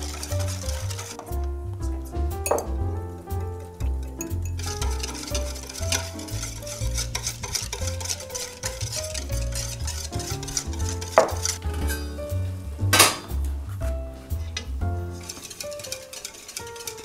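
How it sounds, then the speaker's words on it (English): A utensil stirring scalded milk mixture in a pot on the stove as it thickens, continuous close scraping and swirling with occasional louder knocks against the pot, no talking. "Now I'm stirring until it is thickened"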